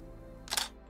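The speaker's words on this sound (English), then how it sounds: "That clunk of the mirror going up and the shutter going off, I have missed that." A single-lens reflex camera fires once: a quick mechanical clunk of the mirror flipping up and the shutter snapping, close and crisp against a quiet background.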